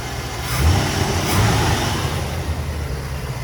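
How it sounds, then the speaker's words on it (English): A restored 1956 Plymouth Fury's 303 cubic inch dual-quad V8, fitted with two Edelbrock carburetors, runs close by with a loud, steady rumble and slight swells in revs. "check that motor out. That's a 303 cubic inch dual quad V8."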